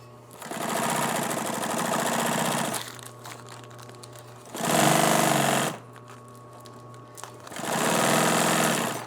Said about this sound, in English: just running it through a single needle machine